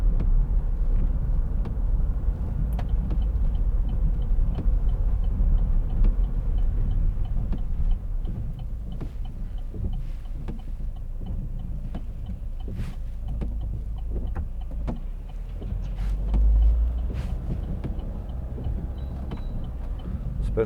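A 2011 Vauxhall Meriva 1.7 CDTi diesel hatchback drives along, a low, steady road and engine rumble heard from inside the cabin, with faint ticking and clicks over it.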